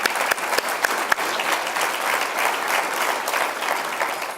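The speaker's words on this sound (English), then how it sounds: "Let's give them a round of applause." Guests at a chamber of commerce annual dinner clap together in a dense, even round of applause, with a few sharper individual claps standing out near the start.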